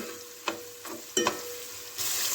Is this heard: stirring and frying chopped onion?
yes